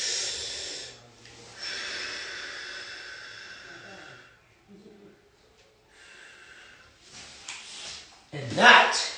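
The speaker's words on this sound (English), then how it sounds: "Then as you're extending, exhale through." Deep breaths, slow inhales and long hissing exhales, come through during a thoracic spine mobility exercise on a foam roller, with a coach's spoken instructions in between; a louder, sharper breath lands near the end.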